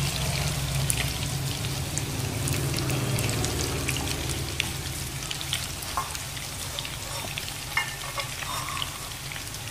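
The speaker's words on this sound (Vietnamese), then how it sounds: "Rồi bây giờ mình cho lên bếp mình chiên các bạn nhé." Fish cakes wrapped in betel leaves fry in fat in a pan, giving a continuous crackling sizzle with sharp spitting pops, steady and close for the whole stretch.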